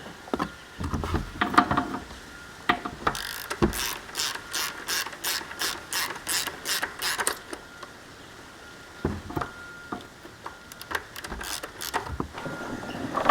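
Ratchet wrench clicking rapidly while the oil filter cover is loosened on a Mini Cooper S F56, several bursts of close, crisp ratcheting with a long even run of clicks in the middle and short handling noises between.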